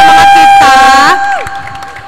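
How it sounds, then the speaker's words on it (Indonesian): An audience at an evening event in Lampung cheers and claps, a loud burst of voices and applause that drops sharply after about a second and tails off into a quieter crowd murmur. "Tepuk tangan dulu dong buat ngebakar semangat kita."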